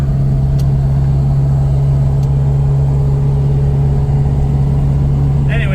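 A 60-series Toyota Land Cruiser engine runs on a test drive after knuckle work, giving a loud, steady low drone with no letup from start to finish.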